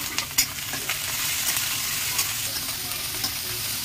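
Onion, ginger and garlic paste frying in a pan, a steady loud sizzle with scattered spatters and stirring clicks throughout, no voices.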